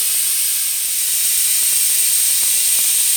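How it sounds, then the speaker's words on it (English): Compressed-air vacuum oil extractor pulling engine oil through a long tube from the dipstick hole, giving a loud, steady high-pitched hiss that stays constant throughout with faint gurgling underneath. "I'm using my newly acquired vacuum extractor that uses compressed air."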